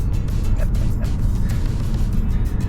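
Car engine and road noise from inside a moving car with some vibration, a steady low rumble that fills the whole stretch with no talk over it.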